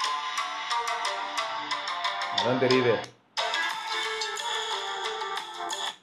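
A Google Pixel 9a plays a bright ringtone melody loudly through its built-in speaker, continuous apart from a short break, with someone speaking briefly over it.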